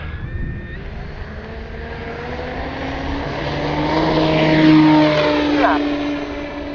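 The small propeller engine of an E-flite Carbon-Z T-28 radio-controlled model plane drones overhead, its pitch rising and swelling as it passes, with a voice speaking over it.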